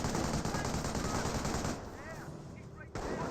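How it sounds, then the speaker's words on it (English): Sustained machine gun fire in the World War II strategy game Company of Heroes rattles on steadily at low level, mixed with battlefield noise and brief distant talk, and thins out partway through before picking back up. "Force starting to get suppressed down by the MG."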